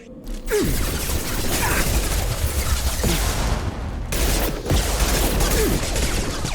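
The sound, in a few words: pistol gunfire in the video game Mass Effect 2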